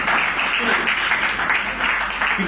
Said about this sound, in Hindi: अगर अच्छा लगे तो आप सब तालियां बजा करके शादाब को एहसास दिला सकते हैं।